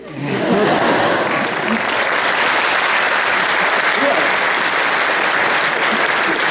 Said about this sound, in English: yeah, you can clap, it's okay